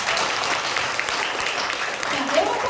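Steady, dense applause from a seminar audience fills the room, sustained and fairly loud throughout without a break.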